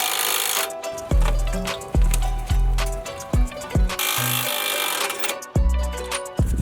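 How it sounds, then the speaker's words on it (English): Sharp metallic taps on the upper spindle bolt of a Ford Raptor's front suspension, half a dozen irregular, close strikes with ringing tails, heard alone without talk. "I just tapped that upper bolt until it popped out."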